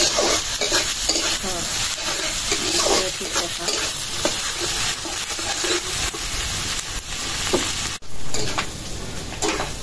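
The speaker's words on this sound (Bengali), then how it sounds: "পেঁয়াজ রসুনটা আধা ভাজা হয়েছে, এটা পুরা ভাজা করি না।" Onion and garlic sizzle and fry steadily in a pan with occasional stirring scrapes, loud and close throughout, with a brief drop near the end.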